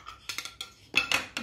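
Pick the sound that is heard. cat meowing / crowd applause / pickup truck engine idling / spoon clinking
spoon clinking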